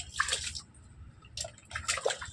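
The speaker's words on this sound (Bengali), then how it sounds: "মগে করে জল নিয়ে মাথায় দাও" Water poured from a mug over a child's head at bath time splashes in two short close bursts of splatter and drips, separated by a brief pause.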